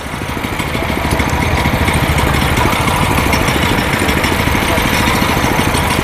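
A chain cultivator's small engine runs steadily during a live field demo of maize weeding and earthing up, with a loud, continuous rattling drone and rapid pulsing that holds from start to finish.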